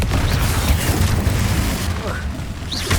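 Fiery Confringo spell explosion in the video game Hogwarts Legacy, heard as a deep, loud boom with a rumbling body that fills the whole stretch, amid continuous battle noise.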